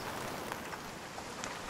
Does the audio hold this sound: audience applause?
no